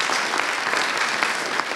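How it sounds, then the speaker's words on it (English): A tech conference crowd at SREcon claps in a brief, dense burst of applause, even and fairly loud from start to finish, with no speech over it. "can I get a round of applause for USENIX and SREcon for putting on this great conference?"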